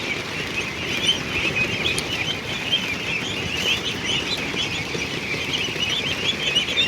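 Young ducklings chirp and peep in a constant busy chorus, many birds calling at once nearby, with soft flutters and no talk.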